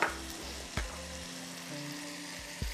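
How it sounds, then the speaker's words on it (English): Chopped tomato sautéing in a hot pan for huevos rancheros gives a steady, close sizzle, with a few brief stirring scrapes and clinks breaking through. "Saute that really quick."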